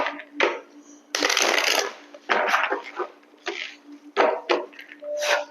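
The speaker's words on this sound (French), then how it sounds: "je vais déplacer les cartes, sinon elles vont s'envoler" Tarot cards shuffled and slid across a table in several brisk, close bursts of papery rustling, separated by short pauses.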